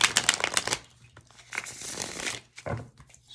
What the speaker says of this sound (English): Get at least a couple shuffles in here, huh?